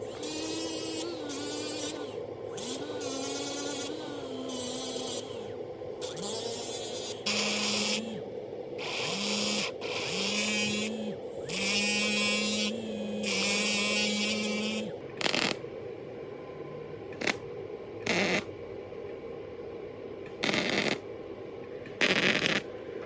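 Small metal pieces of a Milwaukee knife are welded together in a string of crackling, buzzing bursts, steady at first, then shorter and more broken up with pauses, heard close.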